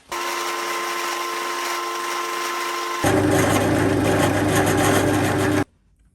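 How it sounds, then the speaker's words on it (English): An end mill cutting the sides of a mini lathe cross slide: a steady high machine whine, then a louder, rougher cutting drone for a few seconds before stopping abruptly. "I'm just going to clean up the sides with an end mill rather than this rougher"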